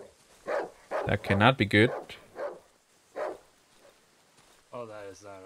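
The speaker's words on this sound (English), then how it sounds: "I hear some dogs." Dogs bark in a video game, a few short distant barks and whimpers scattered under a player's voice, which speaks over them.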